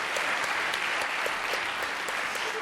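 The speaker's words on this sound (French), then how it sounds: "Ça s'applaudit." A studio audience on a French television variety show breaks into dense, sustained applause, loud and steady throughout with no pause.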